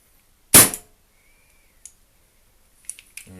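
A WE gas airsoft replica fitted with a silencer kit fires one sharp, short shot, followed by a few faint mechanical clicks in an otherwise quiet room.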